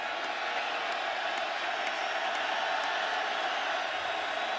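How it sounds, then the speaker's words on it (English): Stadium crowd at an Iowa State college football game against Texas, a steady far-off roar of many voices with no clear peaks, running under faint commentary. "Iowa State crowd trying to make it tough."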